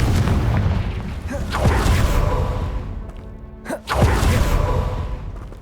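A Confringo fire spell blasts in Hogwarts Legacy, a loud booming burst amid dense ongoing combat rumble, with a sharp whooshing impact near the end.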